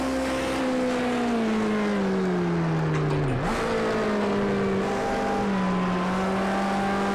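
Racing cars in Project Cars 2 driven on a wheel, with a Lotus among them, their engines droning and rising in pitch as they accelerate. A brief gear-change dip comes midway, and several cars are heard close together with no talk.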